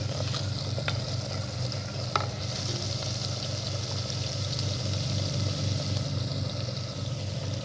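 Medium-sized tomatoes fry in a pan for an egg and potato dish, giving a steady, close sizzle with a low rumbling bed and a few brief stirring clicks, with no voices.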